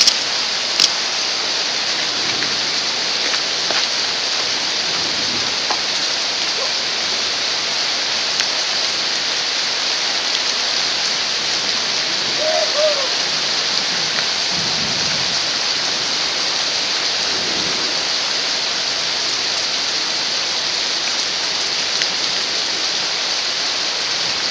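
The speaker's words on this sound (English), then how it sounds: "It is raining pretty hardcore." Heavy rain pours down onto a street in a steady, loud, unbroken hiss that holds for the whole stretch without voices.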